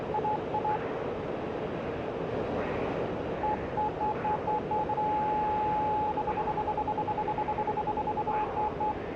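A steady electronic cockpit warning tone in the DCS World flight simulator, sounding in short pulses early on and then as a long repeated beep over constant engine and wind noise.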